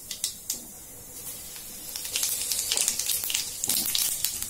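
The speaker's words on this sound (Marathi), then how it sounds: "तर तेल आपलं गरम झालेलं आहे. याच्यामध्ये आपण 1/2 चमचा मोहरी घालूया. ती अशी छान तळतळली." Mustard seeds and cumin sputter in hot oil with dense, crackling sizzle and sharp pops, growing busier and steadier after the first couple of seconds, close and moderately loud with no voices.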